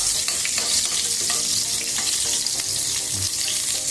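Onion fries in a pan with a dense, continuous sizzle and crackle, punctuated by spatula stirring clinks and scrapes, close up and steady with no speech.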